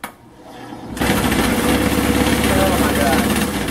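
A $160 Walmart wood lathe spinning up from quiet, then a steady loud motor hum and whir while an ash baseball bat blank turns, close and continuous.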